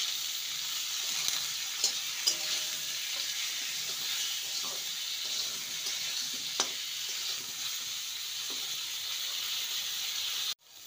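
Cauliflower and potatoes fry in a pan with salt and turmeric, a steady broadband sizzle with a few soft scrapes of stirring, nearby and fairly quiet, ending abruptly.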